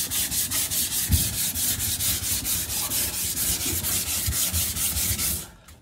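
A long sanding block is pushed back and forth by hand over body filler on a 1988 Chevrolet Monte Carlo SS, making steady rhythmic rasping strokes, close and loud, that stop abruptly at the end.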